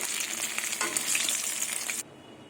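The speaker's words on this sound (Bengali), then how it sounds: "মাছের মাথা ভাজা হয়ে গেছে একদম কড়া করে ভেজে নিয়েছি এবার মাছের মাথাগুলো তুলে নেব" Boal fish heads fry crisp in hot oil with a dense, steady, close sizzle for about two seconds, then it cuts off abruptly into near silence.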